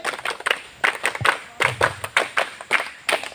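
A group at a school Qur'anic camp ceremony performs the tepuk hawe rhythmic clapping, sharp hand claps in a quick patterned beat, fairly close and loud with no talk over them.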